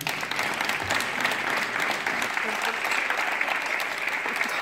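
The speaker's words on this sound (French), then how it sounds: "On peut les applaudir aussi." Audience applause fills the open-air bullring at the Arènes de Nogaro during a live summer music festival, steady dense clapping sustained throughout at close, even loudness.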